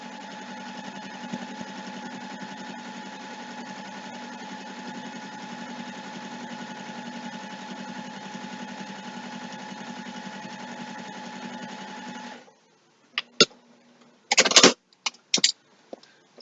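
A sewing machine stitches a zipper bag with a narrow seam, whirring steadily and close for about twelve seconds, then stopping and giving way to a few sharp clicks and handling rustles.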